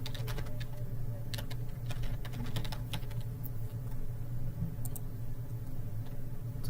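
Steady, rapid typing on a computer keyboard, close and continuous clicking keystrokes over a low background hum, with no voices.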